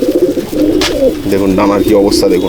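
A young white Madrasi pigeon coos repeatedly in low, throaty rolling calls, close and loud, while someone talks over it.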